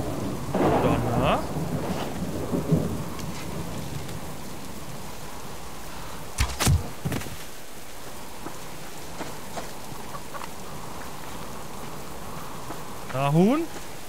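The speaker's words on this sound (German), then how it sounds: "Kalt, Regen, Blitz." Thunderstorm in the survival video game Subsistence, with steady rain falling across the scene and a sharp nearby thunder crack midway, plus a few other short bursts over the continuous downpour.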